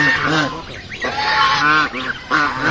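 Geese honk loudly and repeatedly at close range, several overlapping nasal calls in quick succession.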